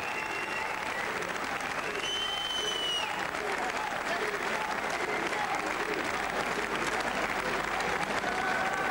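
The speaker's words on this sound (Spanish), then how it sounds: "Los aplausos para Dimitris Artison, vencedor de este combate." Arena crowd applause after boxer Dimitry Sartison's victory over Mukadi Manda, a sustained, dense wash of clapping and crowd noise with a commentator talking over it throughout.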